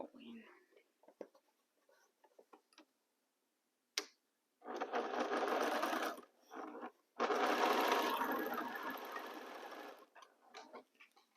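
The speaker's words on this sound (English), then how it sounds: "Now the second row, I am going to nest my seams also and sewing." A home sewing machine stitches quilt rows with nested seams in two steady runs, first about two seconds long and then a longer burst, with quiet pauses and faint handling sounds between them.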